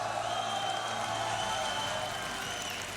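A home crowd at a CS:GO tournament, DreamHack Tours 2017 in France, cheers and applauds in a steady roar that carries through the whole stretch, with faint whistles and whoops riding on top.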